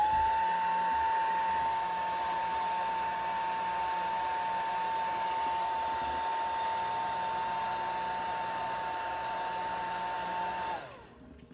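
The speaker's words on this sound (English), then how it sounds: "I'm going to use my hair dryer to dry that glue a little bit." A hair dryer blows on wet glue on a school art craft, a steady close whine and rushing airflow holding constant for about eleven seconds before it is switched off and winds down.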